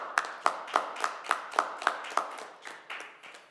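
A single person claps slowly and evenly at a city council meeting, about a dozen sharp, close claps in a steady rhythm that softens toward the end.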